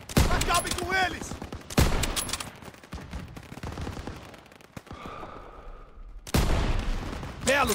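Heavy gunfire from the World War II shooter Call of Duty WWII, with dense bursts of automatic fire and rifle shots, loud at the start and end and quieter in the middle. Shouted game voices cut in over the shooting.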